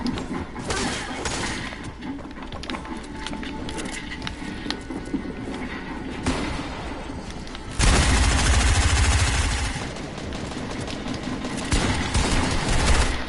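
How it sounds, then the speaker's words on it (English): Gunfire in a PS4 shooter game, rapid bursts and volleys of shots with heavier booming blasts partway through, dense and loud throughout. "can I stop being shot at by everyone?"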